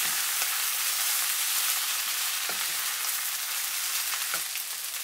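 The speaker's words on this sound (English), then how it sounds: "Now put the pork and the vegetables. Stir fry for 1 minute so that all the tastes combine." Pork and vegetables stir-fried with rice in a hot pan sizzle steadily and loudly, with a few sharper scraping stirs of the spatula breaking through the constant hiss.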